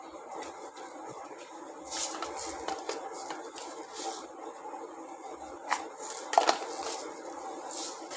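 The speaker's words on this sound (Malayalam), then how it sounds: "കടുക് ഇട്ട് കൊടുത്തതിന് ശേഷം പൊട്ടുന്നത് വരെ വെയിറ്റ് ചെയ്യും. പൊട്ടി വരുന്നുണ്ട്." Mustard seeds crackle in about two tablespoons of hot coconut oil while a Malayalam-style anchovy chilli curry is begun, giving faint scattered pops and ticks over a steady low sizzle, with a brief sharper burst near the end.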